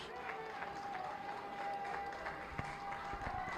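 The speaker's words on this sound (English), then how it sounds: "and he gets a round of applause" A round of applause from a crowd at a high school baseball game as a batter steps up, scattered clapping spread across the stands with some sharper claps near the end, under faint chatter.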